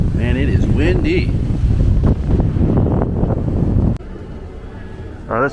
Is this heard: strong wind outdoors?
yes